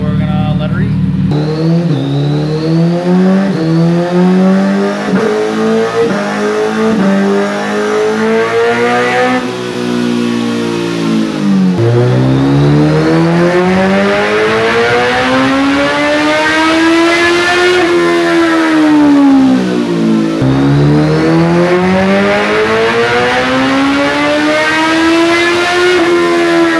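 Turbocharged custom-built motorcycle engine, warmed up, revved hard at full throttle in a shop, loud and close, with repeated long rising and falling sweeps of engine pitch running throughout without pause.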